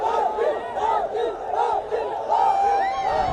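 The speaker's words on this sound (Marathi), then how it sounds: "पाटील पाटील अशी जोरदार घोषणाबाजी झाली" A large crowd of supporters gathered at Azad Maidan and around CSMT in Mumbai chants a name in loud, rhythmic unison, the repeated two-beat slogan rising and falling in waves, close and energetic.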